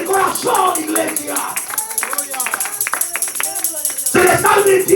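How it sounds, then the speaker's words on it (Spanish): Church congregation clapping together at a Spanish-language worship service, a steady mix of hand claps under music and crowd voices, swelling louder near the end. "Denle un aplauso al Rey con todo el corazón, iglesia."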